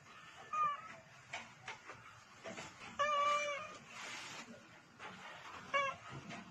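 Golden, an old orange cat, gives short meows in reply, three brief calls spaced across a quiet room with faint background noise.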